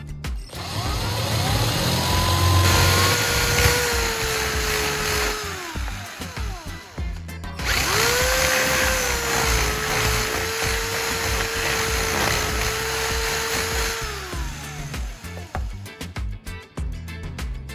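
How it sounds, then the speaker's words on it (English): A high-pitched drill whines steadily in two long bursts, its tone sagging and dipping as it widens a hole in a plastic lighter, with short pauses and clicks between. "let's grab a drill and gently widen a hole at the top of the lighter"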